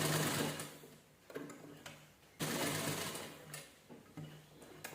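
A sewing machine stitches cloth for a key holder craft, its motor whirring in a loud run, pausing briefly, then starting again in a second steady burst.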